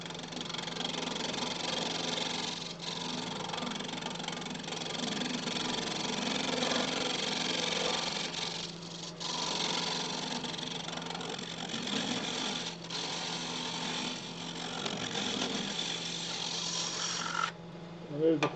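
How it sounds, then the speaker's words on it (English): A wood lathe running in reverse while a hollow-form vase is turned, with a steady, fairly faint motor hum and light tool scraping, broken by a few short pauses. "So I'll just reverse the lathe so I can see what I'm doing."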